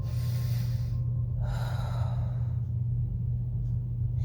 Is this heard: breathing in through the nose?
yes